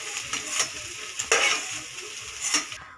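Fried paneer pieces are lifted from hot oil in a kadai, with bubbling sizzle beneath a few distinct metallic scrapes and clinks of the spoon against the pan. The sound is near and there is no talk.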